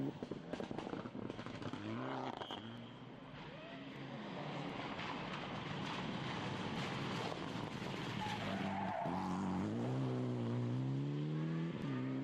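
A rally car drives fast on a stage at the Rallye du Condroz, its engine revving and rising in pitch, then dipping between gear changes, with tyre noise and a loud, nearby roar that builds toward the end.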